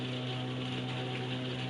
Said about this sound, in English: if you hear rain in the background, it's because it's raining and I'm sat in a conservatory